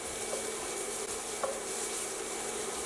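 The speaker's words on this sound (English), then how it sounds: "I'm going to add in now my garlic. I'm going to stir." Garlic stirred and lightly seared in a hot pan, a steady broad sizzle with a couple of faint utensil scrapes, close and continuous with no talking.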